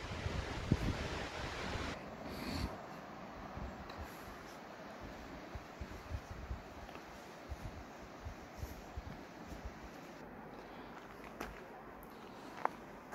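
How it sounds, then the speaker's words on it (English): Waterfalls rushing in a Scottish gorge, a steady broadband roar mixed with gusting wind buffeting the microphone, with faint footsteps and movement nearby. "Looking at the waterfalls there."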